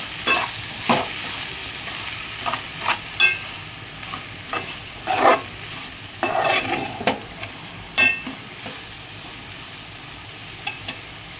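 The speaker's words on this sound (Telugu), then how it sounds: "కాస్త వేగాలి." Food pieces frying in a pan are stirred through a steady sizzle, with repeated scraping strokes at an irregular rhythm, close and fairly loud, with no talking.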